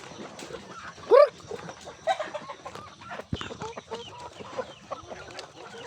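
Rhode Island chickens in a coop on an island farm, with clucks and a distinct rooster-like call near the start, scattered fowl calls and rustling throughout at moderate, close range.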